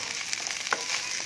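Chicken fried rice sizzles steadily in a hot pan as it is mixed, a continuous close frying hiss with a few soft scrapes of the spatula, no voices.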